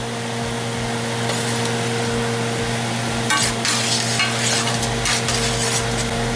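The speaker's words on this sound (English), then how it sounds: "We'll let it cook on medium for a minute or so." Ground spices (salt, black pepper, garam masala, paprika, cayenne) sizzling and frying in a pan on medium heat for chili con carne, a steady close hiss with occasional stirring scrapes and no talk.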